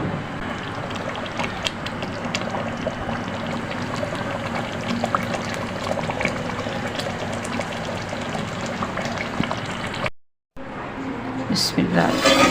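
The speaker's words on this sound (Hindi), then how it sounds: "फिर इसमें हम हल्का सा शोरबा डालेंगे" Shorba broth poured into a pot of meatball curry, a steady watery pour and splash with bubbling under it, then a brief drop to silence before a few further sounds.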